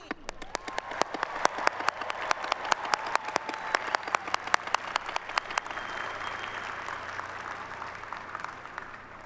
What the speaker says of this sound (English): Please join me in a round of applause to honor and congratulate today's graduates, the class of 2019.